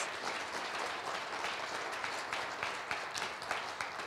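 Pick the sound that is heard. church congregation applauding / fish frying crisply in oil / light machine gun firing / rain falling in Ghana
church congregation applauding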